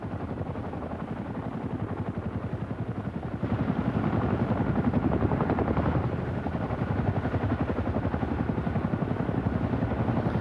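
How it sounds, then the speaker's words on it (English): A Boeing Chinook HC-1 twin-rotor helicopter at a 1990 air show produces a loud, continuous rhythmic rotor thumping that grows heavier partway through as it comes nearer, with no voices. "What it actually is a Boeing Chinook HC-1 of number 240 Operational Conversion Unit at Odium in Hampshire."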